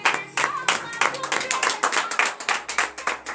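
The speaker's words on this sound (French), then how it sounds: "Donnez l'acclamation à notre Seigneur Jésus." A church congregation at a morning prayer service claps in a steady, rhythmic beat, loud and close, with voices mixed in.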